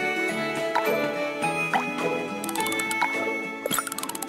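Video game candy-making sounds from Strawberry Shortcake Sweet Shop as colored drops go into candy coating: a series of soft plopping drips over light chiming music, ending in a quick tinkling flourish.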